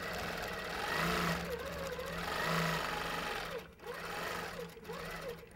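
A Handi Quilter Avante longarm quilting machine stitches silk thread with a fast, steady mechanical whir and rhythmic needle hum, loud and close, with slight pitch swells as the machine moves and a brief dip near the end.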